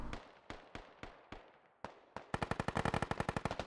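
Gunfire in a military video game: several single sharp shots spaced about half a second apart, then a rapid automatic burst of evenly spaced cracks, loud and close with no talk.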